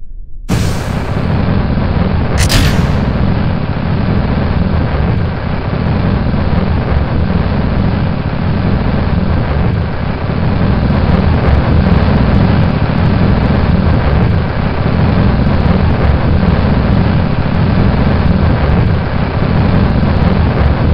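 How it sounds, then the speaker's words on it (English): Rocket engines firing at launch in Kerbal Space Program, a sustained, loud, dense roar that holds steady and unbroken throughout, with a brief sharp burst near the start. "We'll fire up the engines, get the heck out of Dodge"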